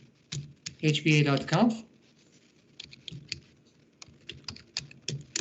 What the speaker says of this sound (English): So now I'll type SCP.